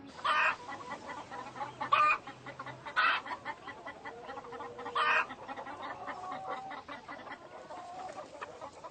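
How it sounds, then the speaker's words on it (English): Chickens cluck in short, sharp bursts spaced a second or two apart, over a quiet outdoor background. "Collect the eggs from the chickens. Chickens?"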